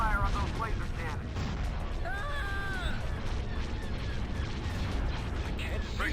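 Laser cannons and other starship weapons trade fire in a Star Wars: Empire at War space battle, a dense continuous barrage of blasts and rumbling impacts with whining tonal zaps, while a voice talks over the combat.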